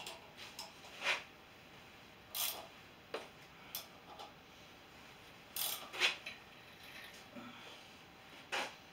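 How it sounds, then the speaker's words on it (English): A 3/4 inch ratchet wrench clicks in faint, sparse bursts of ticking while working on the engine of a 2004 Chevrolet Blazer 4.3, with quiet gaps between strokes. "It's a 3/4 inch ratchet wrench."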